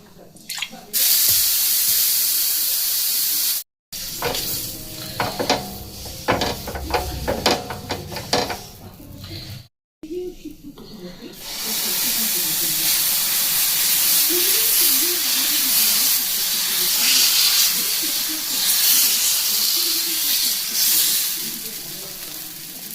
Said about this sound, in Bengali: এবার আমি এখানে জলের ছিটা দেব তাওয়াতে